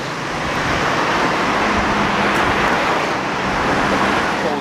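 Car on the move with steady road and tyre noise, a loud continuous roar heard from inside the cabin, no one talking.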